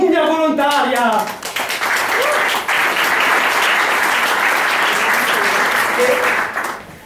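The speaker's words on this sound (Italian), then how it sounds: "Signori e signore, un applauso a Mummia Volontaria." A theatre audience at a drag cabaret show breaks into loud, sustained applause just as a voice finishes speaking, the dense clapping filling the room before fading out at the end.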